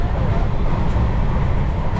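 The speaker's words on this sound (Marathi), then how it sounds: "ट्रेनने आता स्पीड पकडला आहे. 113 114वर चालले एकदम सुसाट." Inside the Jamnagar–Tirunelveli Express running at high speed on the Konkan line, a loud, steady low rumble and broad rushing roar fill the carriage continuously with no break.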